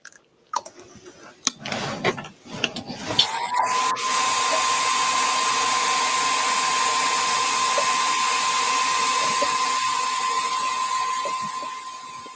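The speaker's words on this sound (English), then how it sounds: "So I'm just going to quickly dry this with a dryer." A hair dryer blasts to dry ceramic glaze, starting after a few seconds of clicks and handling, then running as a loud, steady, close whirring roar with a high tonal whine that tapers slightly at the end.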